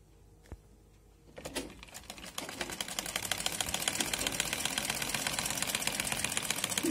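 A sewing machine stitches a zigzag seam along fabric while a dress is made from an orna. After a quiet start and a few clicks, it speeds into a fast, steady rattle that grows louder to the end.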